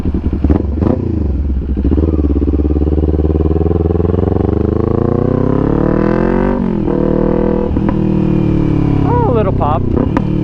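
A 2021 Kawasaki Z400 motorcycle fitted with a Hindle performance exhaust revs up and down repeatedly at close range, engine loud and steady, with a couple of sharp blips near the end and voices talking over it.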